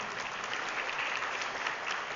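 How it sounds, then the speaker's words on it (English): An audience applauds the volunteers at a Gayatri Parivar Vasant Panchmi gathering, giving steady, dense clapping that holds at an even level throughout, with no voices over it. "A big round of applause as we start with gratitude to all of them"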